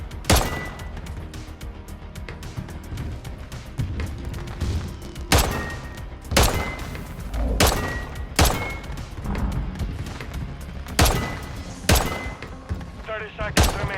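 Single gunshots in the MW3 firing range, about ten sharp, loud cracks spaced irregularly over a quieter background.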